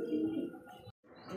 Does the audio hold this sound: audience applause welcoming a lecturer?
no